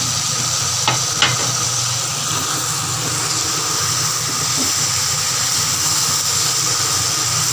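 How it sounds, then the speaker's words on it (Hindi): Bell peppers added to a pan of frying spiced chicken, giving a steady continuous sizzle with a couple of brief stirring knocks, heard alone without talk. "अब इसमें शिमला मिर्चें डालते हैं।"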